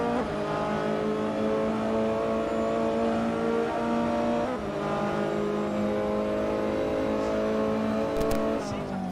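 Race car engines in an Assetto Corsa offline championship drone loudly and continuously, with shifting pitch as Porsches battle closely for the lead. A commentator talks over the engine noise throughout.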